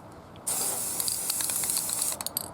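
Ceramic high heat protection coating sprays from an aerosol can onto ropes and skull decorations in a loud continuous hiss of about two seconds, broken by short sputtering bursts as it ends.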